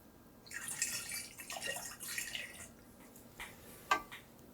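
Homemade limoncello is poured through a funnel in a thin trickling stream, soft and close, tapering into a few scattered drips at the end.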